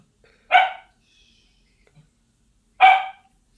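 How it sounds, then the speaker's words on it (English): A dog barks twice, about two seconds apart. Each bark is sharp and fairly loud, with near silence before, between and after. "the dog barked"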